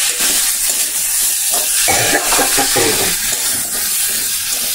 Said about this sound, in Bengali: তো দেখো ভালো করে নাড়াচাড়া করে আমি 5 মিনিট এইভাবে নাড়াচাড়া করে নিয়ে